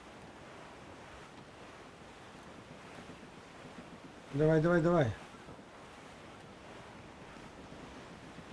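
Wind and ocean waves roll steadily around a schooner under sail in Assassin's Creed IV Black Flag, with a brief loud shouted voice breaking in midway over the constant rushing noise.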